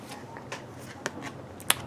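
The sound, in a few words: shuffling cards for an angel card reading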